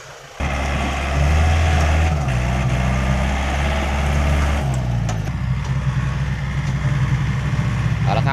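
A tractor idles while preparing a dirt track at a racing event, a deep, close, rumbling engine that shifts pitch slightly now and then, with voices talking over it.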